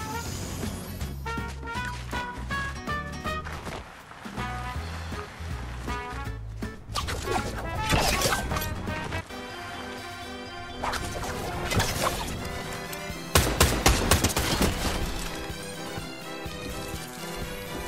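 Rapid bursts of lock-on pistol gunfire in a Fortnite match, sharp repeated cracks layered over busy game music and effects, loud and close, with several heavier impacts near the end.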